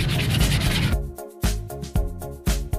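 Sandpaper rubs epoxy residue off a motorcycle fender, first in a dense continuous scrubbing, then in short rhythmic strokes about every half second, close and clear.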